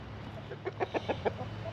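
A rooster clucks in a short series of about five quick, evenly spaced calls on a homestead, fairly close, over a steady low hum with no talking.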